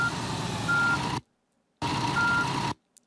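Bus reversing beeps in Tourist Bus Simulator: a rapid, regular electronic beep over a low engine rumble, cutting out completely to silence, then resuming for another burst before stopping again.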